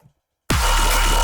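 Silence broken by a sudden, loud, heavy dubstep sub bass that kicks in and holds, deep and buzzy, with a rapid pulsing low end.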